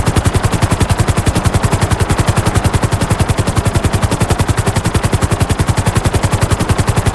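A helicopter in the video game GTA 5, its rotor chopping in a fast, regular beat that stays loud and close throughout with no voices over it.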